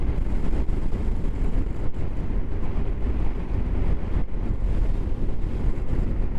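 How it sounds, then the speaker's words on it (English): Wind on a blustery day during a ride out near wind turbines in Lancashire, a constant loud rumbling roar buffeting the microphone close up, with no talk over it. "Yep, it's pretty windy."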